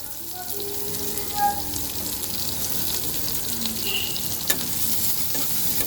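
Onions and green chillies fry in a pan for a tengra fish curry, a continuous moderate sizzle with soft stirring sounds and a few faint clinks.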